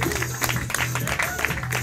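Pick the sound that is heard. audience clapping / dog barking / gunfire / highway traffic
audience clapping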